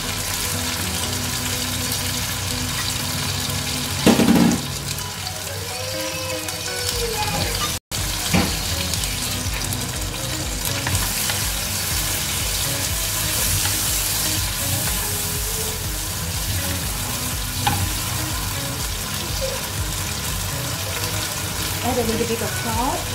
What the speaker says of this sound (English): Now you can add the chili paste.